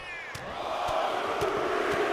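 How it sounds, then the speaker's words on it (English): Arena crowd noise in the wrestling video game WWE 2K25 swells into a steady chant, with rhythmic punch impacts landing at regular intervals over the roar. "The crowd here chanting as Ivar plants some punches into the skull of Razor"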